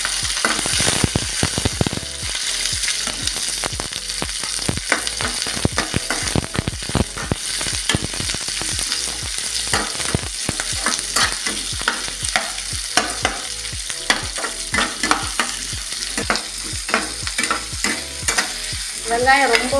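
Onions frying in sesame oil in a kadai, a steady loud sizzle broken by frequent sharp stirring scrapes and clicks throughout, with no voices.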